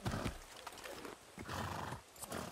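Horses in the video game Far Cry 6 whinny and neigh over steady clip-clopping hooves at a gallop, close and fairly loud, with repeated neighs across the short stretch and no talk.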